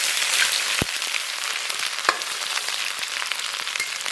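Ginger, scallion and garlic hit hot oil in a wok and sizzle loudly and steadily, a dense close-up hiss broken by a couple of sharp pops.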